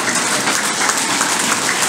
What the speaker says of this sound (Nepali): सबैले ताली लगाउनुहोस् है